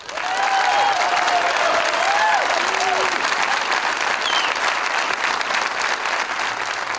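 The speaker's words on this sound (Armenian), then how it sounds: "Եկեք բոլորս ծափահարենք" A live concert audience at the Arena Live show applauds loudly and continuously, with whistles and cheering voices rising over the dense clapping.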